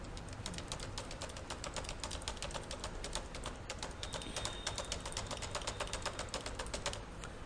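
Rapid, steady keystrokes on a computer keyboard as values are entered into a spreadsheet, close and quiet, with no talking.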